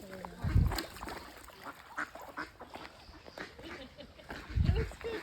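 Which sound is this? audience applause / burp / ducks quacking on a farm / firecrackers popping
ducks quacking on a farm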